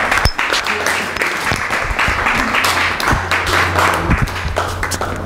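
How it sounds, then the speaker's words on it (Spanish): Loud, full applause from a church congregation, with scattered voices and a low hum mixed in beneath the clapping. "un aplauso grande a ustedes"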